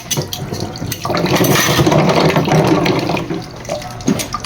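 A kitchen sink tap runs with weak water pressure, a thin, steady splashing trickle that swells slightly after the first second and continues close by without any talk.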